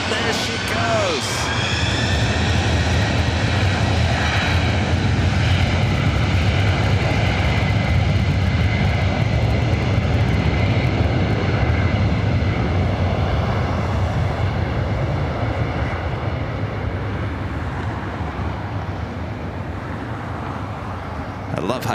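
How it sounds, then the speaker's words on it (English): A Boeing 767-300ER jet takes off at LAX with a loud, sustained roar of engine thrust that rises and holds, then slowly eases as it departs, with spotters talking over it. "I can't think of a better aircraft to do a little turn and burn action for us here on the north side than the 767 at 300 ER."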